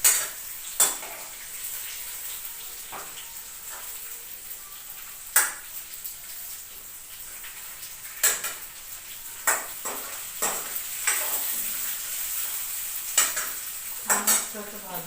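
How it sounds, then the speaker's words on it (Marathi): Something is stirred and fried in hot oil in a pan, giving a steady soft sizzle broken by about a dozen sharp scrapes and clinks of a spoon against the metal, close by with no talking. "आवाज ऐकून तेलात जरा भाजून घेतली"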